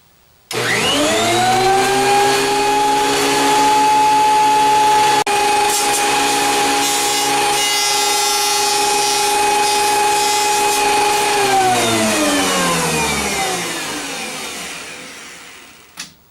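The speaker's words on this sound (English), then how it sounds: "so we've planed our boards" A wood planer runs on boards for a chessboard build, a loud, steady, droning whine that holds for about eleven seconds before spinning down, heard alone with no talk.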